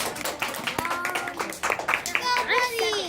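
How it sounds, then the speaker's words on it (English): Scattered hand claps and light applause from a small group after a scouting presentation, mixed with children's chatter and voices over the top. "Let's give Michael a round of applause."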